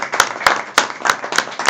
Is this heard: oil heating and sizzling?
no